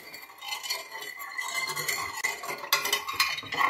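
A spoon scrapes and clinks against a container, stirring brown sugar into popcorn for mushroom spawn, in a busy rattling rhythm up close.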